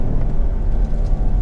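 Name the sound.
Land Rover Discovery Sport engine while cornering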